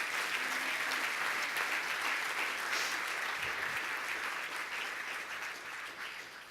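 A church congregation applauds the Lord after a sermon call, a dense sustained wash of many hands clapping that stays loud throughout and eases slightly toward the end.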